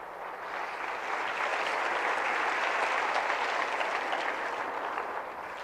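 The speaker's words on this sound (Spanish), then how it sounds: "Denle un aplauso a nuestro Salvador, pues." A church congregation applauds for several seconds, a thick, even roar of many people clapping that swells slightly and holds steady.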